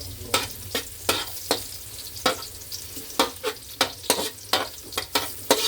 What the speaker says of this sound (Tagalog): Ayan, nagigisa na naman ako ng bawang.